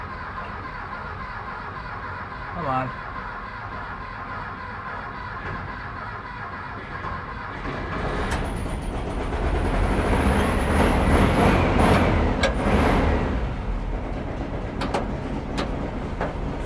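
A classic 1963 VW single cab being started with the clutch in turns over and catches midway, its engine then running with a rough, rising rumble; a short spoken word comes early and metallic squeaks and clunks cut in.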